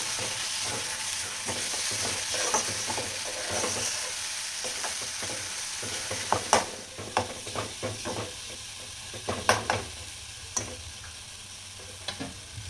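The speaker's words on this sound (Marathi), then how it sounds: "टोमॅटो कांदा चांगला तळला. आता या सगळं वाटण केलेलं टाकून घेते सगळं." Ground masala paste tipped into fried tomato and onion for a sprouted moth bean curry, sizzling steadily in the pan with scattered clinks and scrapes of stirring, close and fairly quiet, no talking.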